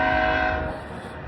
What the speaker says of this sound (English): another train coming down.